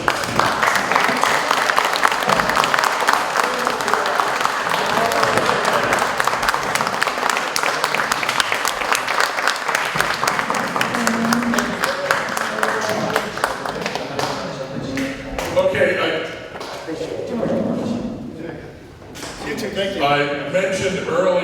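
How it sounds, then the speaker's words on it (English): An audience gives the speaker a loud round of applause, thick and sustained for about twelve seconds. It then thins out as a voice begins talking over the fading claps. "I think we ought to give him a round of applause."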